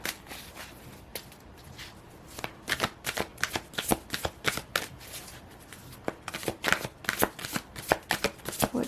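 Tarot cards being shuffled and pulled from the deck, a close, steady run of rapid crisp riffling flicks with no talk.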